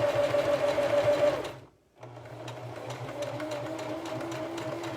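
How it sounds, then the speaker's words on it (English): A sewing machine hums steadily as it stitches, stops briefly near the two-second mark, then resumes a continuous even whir up close. "And now I'm going to sew all the way around."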